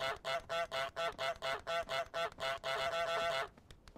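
The goose in Untitled Goose Game honks rapidly, about a dozen close, loud nasal honks in a fast even rhythm before stopping.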